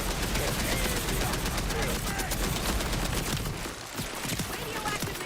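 Dense, continuous SMG fire in a video game rattles loudly throughout, easing briefly before carrying on.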